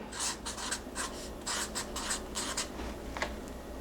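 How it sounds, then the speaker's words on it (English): A pen scratches across paper in a series of quick, rhythmic strokes with brief gaps, close and fairly soft against faint room noise. "I'm going to write that down because I want to remember it."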